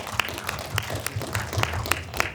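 A small audience applauds after an in-person film Q&A for The House in the Middle of the Sea at a festival, with scattered, moderately loud claps over a low room hum.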